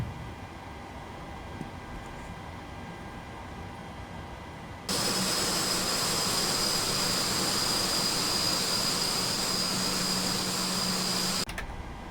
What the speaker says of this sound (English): And we can start up engine 1.